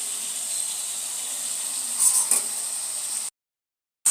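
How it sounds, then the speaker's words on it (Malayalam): Chopped onions and shallots sauté steadily in a hot pan with a pinch of salt, a continuous close sizzle and hiss with a brief louder crackle near the middle before cutting to silence. "അതൊക്കെ നമ്മുടെ ഉള്ളി കണ്ട് വഴണ്ടി വഴണ്ടി വരികയാണ്"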